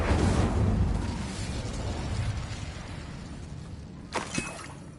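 Incendio fire spell cast in Hogwarts Legacy, a broad roaring whoosh with crackling bursts that slowly fades, ending in a couple of sharp popping impacts near the finish.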